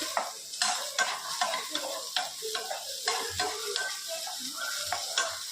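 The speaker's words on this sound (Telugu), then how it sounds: "ఉల్లిపాయలు అన్నీ డ్రై రోస్ట్ ఏం ఆయిల్ అవసరంలే, పచ్చివాసన రాకుండా మసాలా" Onions and masala dry roast in a pan without oil, stirred briskly in a quick rhythm of scraping strokes over a faint crackle, close and steady.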